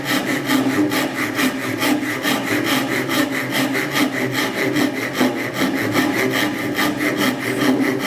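A hand saw cuts wood with its plate held against a saw guide jig, making a steady back-and-forth rasping rhythm of even strokes, close and alone.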